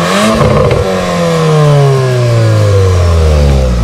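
A VW Golf R Variant in track mode revs hard, its engine note rising and falling loudly and close, with rapid exhaust pops and crackles on the overrun.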